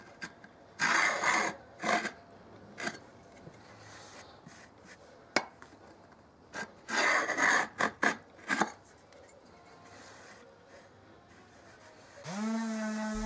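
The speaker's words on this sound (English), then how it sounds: "I beveled the edges with a block plane, being careful not to chip out at the end of each stroke" A block plane bevels the edges of a salvaged oak board, giving bursts of rasping strokes in two groups, each stroke ending cleanly, with quiet gaps between and a low tonal hum near the end.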